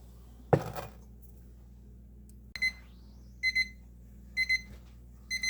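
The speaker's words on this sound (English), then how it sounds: "timer's up, 30 minutes" Kitchen timer alarm going off while baking cinnamon monkey bread, after a knock and a clatter. Bright electronic beeps follow in short paired bursts that repeat several times, alone in a quiet room.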